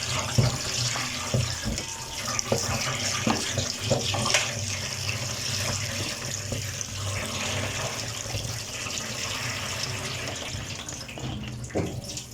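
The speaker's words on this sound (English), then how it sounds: "So we'll drain the hivo and then run over some cold water to stop the cooking process." Cold tap water runs steadily over blanched mixed vegetables draining in a colander, a continuous splashing rush close by with a few clatters, no talk.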